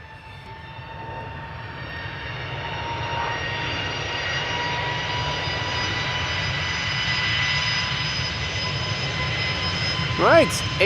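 An Aer Lingus Airbus A320neo jet bound for Dublin at Amsterdam Schiphol: a sustained engine drone with steady whining tones slowly builds in loudness, and brief chirps break in near the end.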